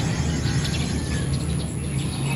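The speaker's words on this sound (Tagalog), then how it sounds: "Mga huni ng ibon ang maririnig mo." Birds chirp in the early morning around 6 a.m., with faint, scattered calls over a constant background hum.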